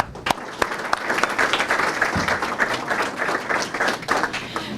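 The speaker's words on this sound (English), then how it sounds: "Please give her a round of applause." A luncheon audience applauds a sponsoring audiologist, with steady, moderately loud clapping from a room of people and a few sharper nearby claps standing out.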